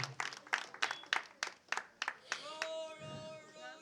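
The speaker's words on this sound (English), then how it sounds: "Please, a round of applause for Baba." A few people at a gathering clap in a slow, separate rhythm of about a dozen distinct claps, followed by a voice starting to speak as the clapping fades.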